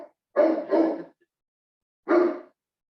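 Dogs bark indoors at home: two quick barks close together, a short gap, then one more bark, loud and near against an otherwise quiet background.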